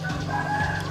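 A chicken clucks nearby in a short burst, its calls steady over low background noise.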